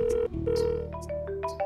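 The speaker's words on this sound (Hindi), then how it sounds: "उसी का फोन आ रहा है, मैं नहीं उठाऊंगी" A mobile phone plays a melodic ringtone for an incoming call, a bright run of stepping electronic notes, loud and close, in a scene from a Hindi TV drama.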